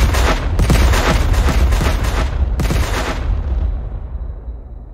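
A Minecraft 2D mini-game explosion sets off a loud burst of rapid crackling blasts that rattle on for a few seconds, then cut off and fade into a low rumbling tail.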